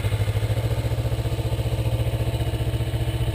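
A Kawasaki Ninja motorcycle engine runs close by with a steady, rapid low throb as the clutch is eased out and the revs are held, loud and even throughout, with no talk.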